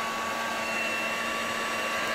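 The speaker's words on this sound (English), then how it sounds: "the cheaper heat gun needs about 420 degrees to melt the soldering wire" A cheap heat gun blows hot air in a steady, loud, unbroken whoosh with a faint motor whine, close and with no talking.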